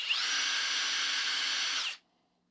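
A FLEX cordless half-inch impact wrench spins freely at 2000 rpm, giving a steady, even high whine for about two seconds before cutting off abruptly into silence.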